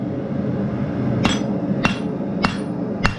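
A blacksmith's hammer strikes hot steel while forging a dinner bell, four sharp ringing blows spaced evenly about half a second apart over a steady low shop hum, close and loud.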